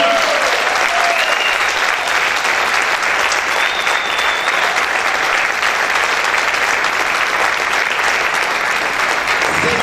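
Church congregation giving a strong round of applause during a sermon, steady and loud throughout, with crowd noise and occasional cheers blended in.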